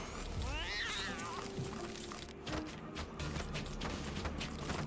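A video game cat meows a few times with rising, wavering cries amid background noise, followed by some clicking and scuffling sounds, in Death Must Die.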